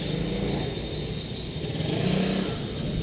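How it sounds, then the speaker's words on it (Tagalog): A motorcycle engine hums steadily nearby on a street, its mid-pitched drone swelling slightly as it passes, with no talking over it. "Dumaan ang motor."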